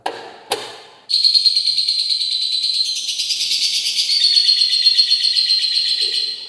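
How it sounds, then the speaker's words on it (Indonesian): A caged bird at a house chatters in a continuous high, buzzy trill after two sharp knocks, loud and close with no one talking. "Ini burungnya nggak suka tuh, ada saya. Cerewet. Saya datang dia ngoceh-ngoceh."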